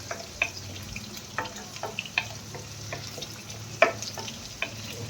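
Green chillies sizzle and crackle in hot oil for a chilli paneer dry dish, with a steady frying hiss and scattered stirring clicks and scrapes throughout. No one speaks.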